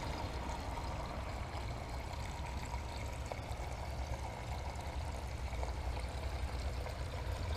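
Water streams steadily into an ebb and flow grow bed holding young seedlings, a continuous close trickling pour with no break across the span.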